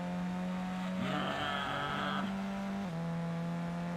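Toyota Supra engine in Gran Turismo 2 droning steadily at high revs throughout, with a brief surge of rising, whining tone mid-race and a small dip near the end.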